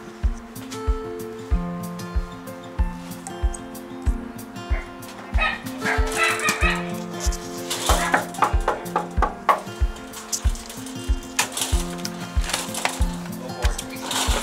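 Dogs bark at a doorbell in short bursts over steady music, the yaps clustering in the middle and tapering off, with some faint talk.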